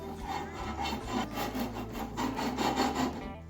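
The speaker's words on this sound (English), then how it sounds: "You want to sand all the frets together." Sanding the frets of an archtop jazz guitar with a level drawn along the fretboard, a steady close rasping rub with rhythmic back-and-forth strokes and no talk.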